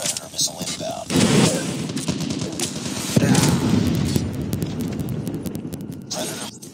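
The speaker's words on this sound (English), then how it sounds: "Hostile predator missile inbound." Predator missile strike in Call of Duty: Mobile frontline gameplay, with heavy booming explosions and rumbling gunfire bursts close by, dense and loud, mixed with crackling impacts.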